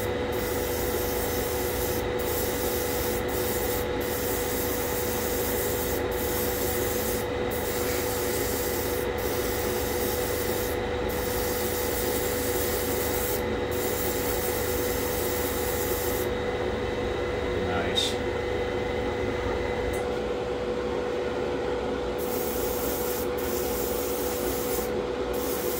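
An airbrush sprays primer onto a Tamiya 1/35 scale M3 Lee model tank inside a spray booth, giving a steady, even hiss under a constant fan-like drone that runs without a break for the whole stretch.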